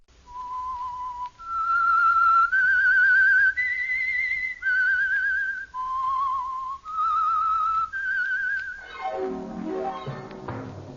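A radio mystery show's signature theme is whistled by a lone, clear, melodic whistler, a string of sustained notes stepping up and down in pitch, ending in a sweeping orchestral flourish.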